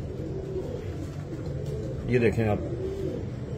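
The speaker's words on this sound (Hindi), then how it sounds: "ऐसे जो है ना हमारे पास सैकड़ों कबूतर हैं" Pigeons at a loft of hundreds of high-flyer and low-flyer birds in Punjab give a short cooing burst under someone speaking Hindi, among steady background murmur.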